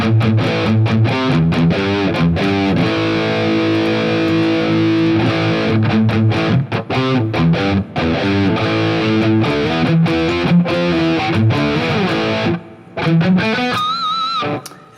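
An electric guitar played through an Ibanez TS9 overdrive with the drive turned down, loud, with strummed chords and riffs that ring out and a few short gaps between phrases.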